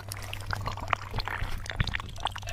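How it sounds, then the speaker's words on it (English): Water is poured slowly into the top of a three-tier bush water filter, with a steady trickle and scattered splashes and drips, close and fairly loud. "You want to just add a little bit of water in the center."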